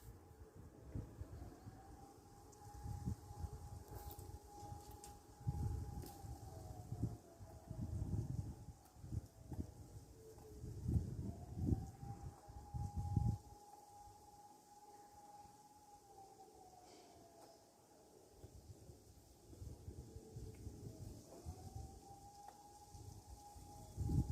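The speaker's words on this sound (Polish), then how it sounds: "zaczyna wyć syrena alarmowa" A civil defense air-raid siren sounds across Warsaw for the Warsaw Uprising anniversary, its faint, distant tone rising and falling in long repeated wails over steady outdoor background noise.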